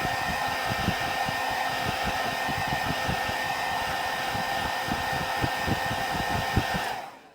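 A hair dryer blowing steadily on a leather repair, a loud, close, continuous whirring roar with a faint rapid flutter, running alone for about seven seconds before it switches off abruptly.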